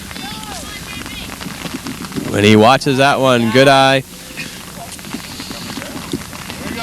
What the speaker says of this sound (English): And the rain coming down here